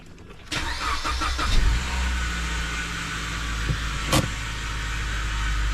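A Suzuki Grand Vitara engine cranks briefly and catches, settling into a steady close idle with a short mechanical clunk partway through.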